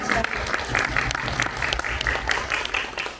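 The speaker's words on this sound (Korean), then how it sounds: "박수로 한번 드릴까요?" An audience at a film screening talk event claps in an even, sustained burst of applause that fills the whole clip, loud and close.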